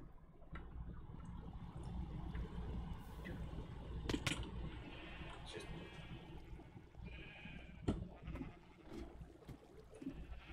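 Sheep bleating in Minecraft while someone goes around dyeing a flock on a farm, several short bleats rising over busy game sounds and background noise, with talk throughout.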